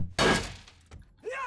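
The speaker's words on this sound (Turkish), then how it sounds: "Şu kapıyı kırayım bir." A door is smashed in a survival video game: one sharp, loud crashing impact with splintering debris, a brief quieter knock, then a warbling sound near the end.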